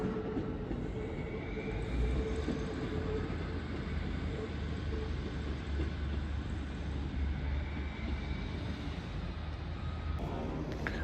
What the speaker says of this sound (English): Arriving in now is the LNER service off to London King's Cross.